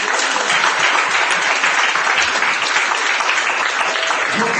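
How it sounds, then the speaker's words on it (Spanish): A church congregation claps for the Lord during a sermon, a dense, steady wash of applause heard loud and close for the whole stretch, with no clear speech over it. "Démosle palmas al Señor."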